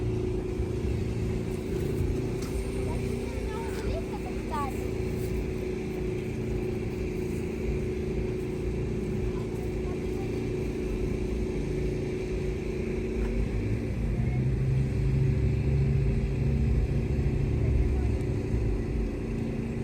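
A tractor engine runs steadily while pulling a trailer on a farm, a constant low rumbling drone close by that grows slightly heavier toward the end.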